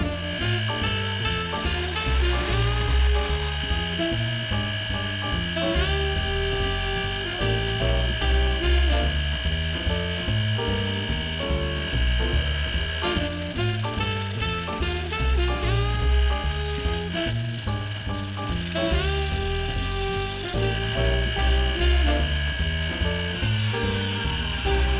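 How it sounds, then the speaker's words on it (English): A homemade sanding machine with an adjustable motor and four-speed pulley drive runs continuously, a loud steady mechanical whir with pulsing tones and no talk. "The machine has an adjustable motor."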